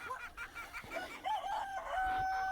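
Chickens shut in their coop cluck and squawk, with a rooster's drawn-out crow near the end, faint and close-miked.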